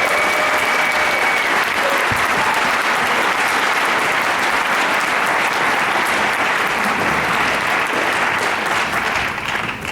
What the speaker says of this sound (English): Let's give Carol a big round of applause